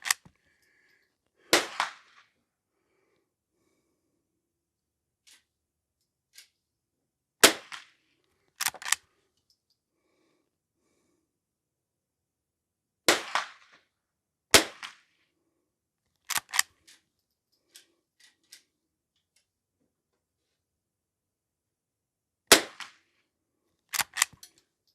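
A Henry H001 lever-action .22 rifle fires roughly eight or nine sharp, crisp reports downrange, spaced irregularly in small pairs and singles, with near silence between them.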